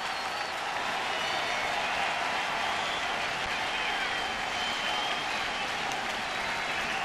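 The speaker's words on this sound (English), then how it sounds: "here the crowd's getting into this" Steady, dense applause and crowd noise from Giants fans at a Mets–Giants baseball game in San Francisco, a continuous wash of clapping and cheering that holds level for the whole stretch.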